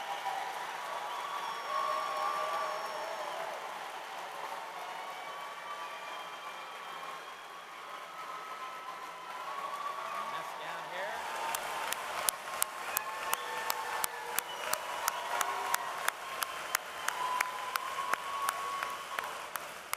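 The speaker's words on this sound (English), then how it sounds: "We just clapped" Graduates at the Baldwin Wallace University spring 2024 commencement ceremony receive a round of audience applause. It starts as a soft murmur and grows into steady, sustained clapping over the second half.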